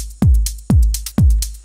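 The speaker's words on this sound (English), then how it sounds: "Usually the 909 kick drums that you know and come across most of the times sound like this." Punchy 909 kick drum with tuning, attack and decay turned all the way up, four booming hits with a sharp click and a long falling low tail, spaced evenly, loud and alone.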